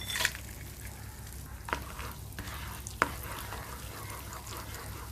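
Whole spices fry in butter and oil for lemon pepper chicken, giving a steady close sizzle with a few sharp spoon clicks against the pan.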